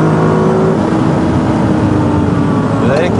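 A lightweight Lotus sports car on Semi-slick tyres races round a circuit, its engine droning loud and continuous with shifting pitch as it accelerates, heard close with no pauses.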